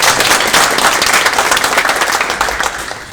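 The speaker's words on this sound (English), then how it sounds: "Give him a round of applause." Audience applause at a Procter & Gamble Gillette community conversation meeting, steady dense clapping from a crowd, loud and close, filling the whole stretch without talk.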